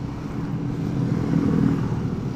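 Traffic on the Puncak road, heard as a steady low engine drone and rumble of passing vehicles, close and continuous, with no speech.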